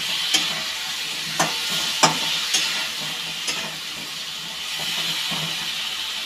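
Spices with turmeric and salt being stirred in a hot pan, a series of spoon scrapes and taps over a steady sizzling hiss that carries on alone after the strokes stop, near and fairly loud.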